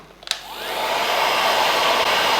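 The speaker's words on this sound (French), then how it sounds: "à l'aide de notre sèche-cheveux, on va légèrement chauffer, mais sans trop insister" A hair dryer switches on and roars steadily while warming the rim of an eyeglass frame, a loud close continuous blowing whine with a few clicks at the start.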